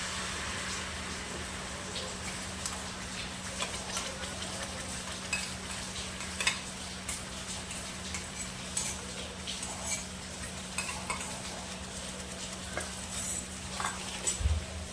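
A spoon stirs gravy for paneer masala in a pan with soft scraping and light clinks, under a faint steady sizzle, the stirring strokes irregular and close.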